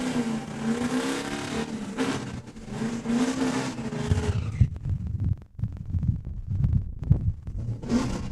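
A drag race car screams at the top end of its run at Saskatchewan International Raceway, first as a droning, harmonic engine roar and then as a rougher, choppier rumble as it backs off.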